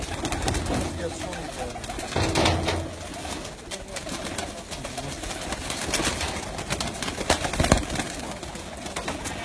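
Pigeons coo from a rooftop in Kharian, their soft throaty calls repeating through the scene over light outdoor background noise, with occasional wing flaps and faint voices nearby.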